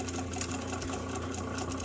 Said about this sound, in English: So I might just keep this clutch motor and use this machine like this.